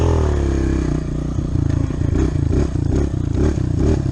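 A kid's dirt bike engine revs hard and pulses in quick bursts, loud and close, with rattling, clattering mechanical noise mixed into the throttle blips.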